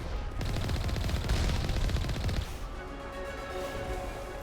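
Heavy turret gunfire in the Mass Effect Legendary Edition video game: a loud, dense burst of rapid shots for about two seconds, then dropping to a lower rumble of game noise and tones.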